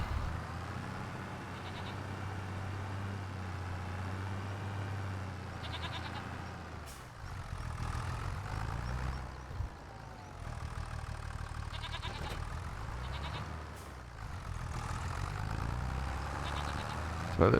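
Goats bleat repeatedly in Farming Simulator 25, several wavering calls over a steady low engine-like idle, at moderate level.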